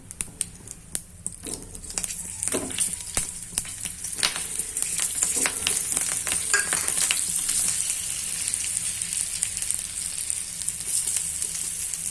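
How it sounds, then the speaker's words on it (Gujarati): Chillies for stuffed chilli curry hit hot oil with a loud, close sizzle that builds into a steady, dense crackling fry, scattered pops rising early on. "હવે તેમાં આપણે મરચાં મૂકી દઈશું"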